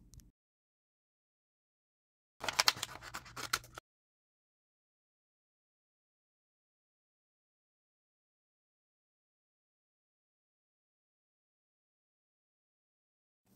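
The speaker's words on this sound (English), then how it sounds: "we're just going to take some scissors and cut out each piece" Scissors cut holographic vinyl in a short burst of crisp snipping and rustling, about a second long, in an otherwise silent stretch, close by.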